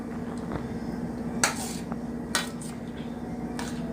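A Cuisinart pan being handled in a home kitchen, with a couple of sharp metallic clanks and light scrapes over a low steady background hum.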